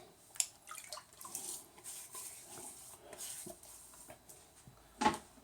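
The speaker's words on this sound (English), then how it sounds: "Just going to wet my face." Water splashes softly as hands wet a face at a sink before a wet shave, with a few faint, scattered splashes and drips and one sharper splash near the end.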